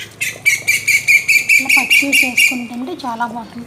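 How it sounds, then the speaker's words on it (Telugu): A koel calls in a rapid run of bright, repeated notes, close and clear, while a person talks over it in a home kitchen setting. "చూసారా కోయిల అరుస్తుంది."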